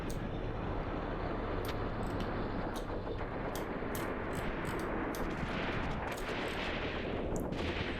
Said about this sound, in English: Right, these machine guns have opened up.